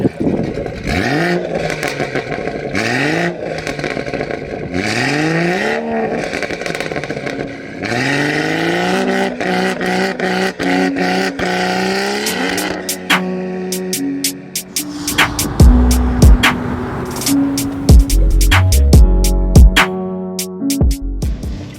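A track-spec BMW M140i driving on the road, its engine revving loud and close in repeated rising sweeps through the gears, then settling into a rougher, clattery drone.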